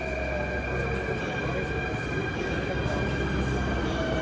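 A Delhi metro train pulls into an underground station, heard as a steady mechanical rumble with sustained tonal whine lines and a hissing wash of station noise at a fairly low level.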